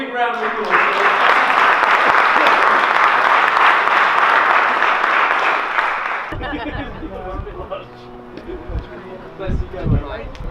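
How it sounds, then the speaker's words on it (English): Loud audience applause for a performer named Rob at a Constable's Parade gathering fills the first six seconds, then gives way to nearby voices talking and cheering. "let's give Rob a big round of applause"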